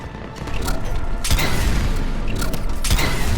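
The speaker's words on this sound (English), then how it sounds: "Cannons initializing." Mechanical clanks, booms and creaks as cannons power up in Mass Effect Legendary Edition, dense and loud with a heavy thud partway through, no voices.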